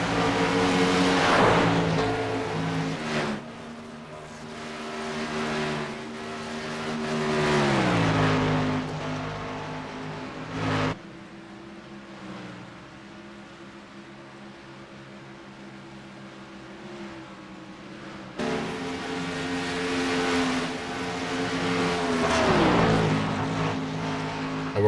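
Race trucks lap the Auto Club track in a Southern Motorsports Truck Series race, their loud engines rising and falling in repeated passes, revving up and fading with a brief quieter stretch between them.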